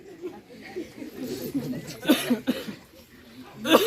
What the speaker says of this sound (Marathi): खोकला पण खूपच आहे